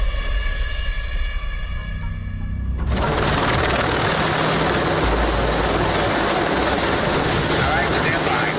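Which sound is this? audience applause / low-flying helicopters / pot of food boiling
low-flying helicopters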